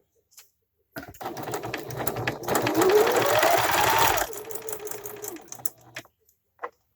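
A sewing machine stitches a fabric face mask in one steady run of a few seconds, its motor whirring up and then stopping, with a few light clicks before and after.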